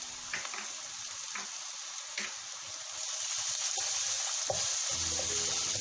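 Spices frying in a pan for masala okra as they are stirred, a steady hiss with a few scattered clicks and scrapes, rising slightly louder partway through, close and without speech.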